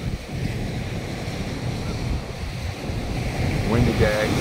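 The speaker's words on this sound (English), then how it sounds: "sorry for the wind noise if there is" Heavy wind buffeting a microphone on a beach at sunset in Zambales, Philippines, a constant loud rumbling roar over distant surf, with a faint voice briefly near the end.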